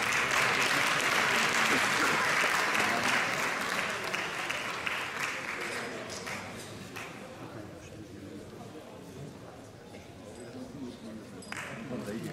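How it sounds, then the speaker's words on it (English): Audience applause at a NABBA Universe 2017 bodybuilding competition, Miss Athletic Figure class, as finalists leave the stage; a broad, loud round of clapping that gradually thins and fades, with faint voices underneath. "Please leave the stage to a big round of applause"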